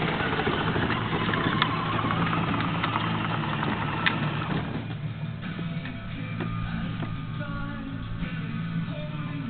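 A Power Wheels toy Jeep's small electric motor runs steadily and close, a continuous buzzing whir with faint ticks and rattles, fairly loud and with no talking.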